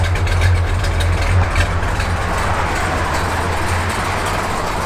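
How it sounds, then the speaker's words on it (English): A 1968 Plymouth GTX V8 idles with a lumpy cam, giving a low, steady rumble with a slightly uneven pulse, heard close and alone without talk. "You hear that cam a little bit."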